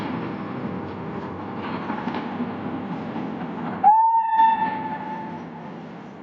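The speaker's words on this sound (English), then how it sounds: "another train journey, this time on the North Yorkshire Moors Railway" A steam train rumbles along steadily on the North Yorkshire Moors Railway, then a short, piercing whistle blast sounds midway before the rolling rumble carries on.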